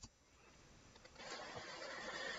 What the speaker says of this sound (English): you should have no fan noise interference. Maxing it out does sound like this.